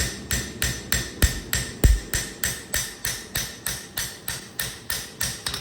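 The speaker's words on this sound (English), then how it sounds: "I like to use a ball peen hammer, flat side, to get a lot of my hammer marks out" Flat face of a ball peen hammer striking a hand-forged knife blade on an anvil, about fifteen evenly spaced ringing metallic blows at a steady rhythm, loud and close, with no talking.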